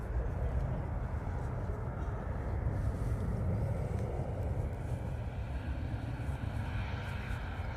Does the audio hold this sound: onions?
no